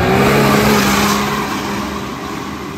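A side-by-side UTV engine revs hard at a 4x4 mud bounty hole in Lakefield, a loud, close, sustained high-pitched roar that eases slightly over a few seconds.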